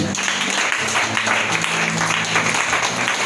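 A church congregation applauds in a short, dense burst of clapping that stays loud and steady from start to finish.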